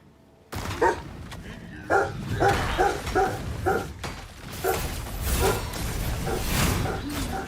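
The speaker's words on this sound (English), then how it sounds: "my dog is going crazy" A pet dog barks repeatedly in short bursts at close range, the yelps spaced through the clip over a dense bed of game noise and music.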